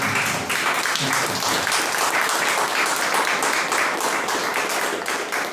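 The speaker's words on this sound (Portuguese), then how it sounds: "Uma salva de palmas para nós" A church congregation breaks into dense, sustained applause, many hands clapping together in a steady roar that fills the room for several seconds without letup.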